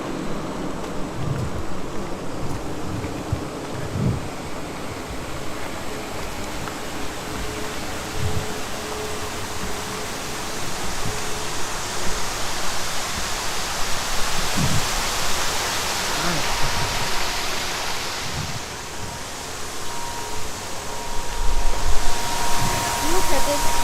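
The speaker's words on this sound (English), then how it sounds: "Look at this waterfall." A waterfall roars as a steady, broad wash of falling water, loud and continuous throughout, with occasional faint thumps and a slight swell toward the end.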